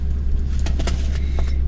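A Rover P6 2000 Automatic idles just after a cold start, a steady low engine rumble heard close by, with a few light metallic clinks over it.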